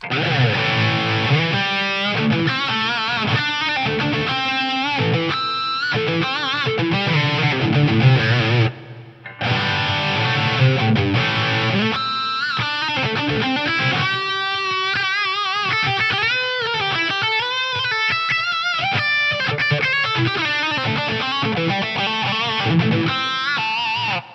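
A lead melody played through a Roland SRV 2000 reverb with a 4K high cut and longer pre-delay, plus an SDE 1000 delay, rings out loud and sustained with trailing echoes and a brief drop near the middle.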